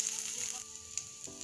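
Black cumin and chopped ginger frying in oil for chicken momos: a steady, bright sizzle close up, with small pops and stirring clicks.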